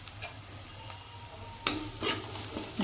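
Okra with grated fresh ginger frying in a pan gives a soft steady sizzle, broken by a few sharp scrapes of stirring near the end.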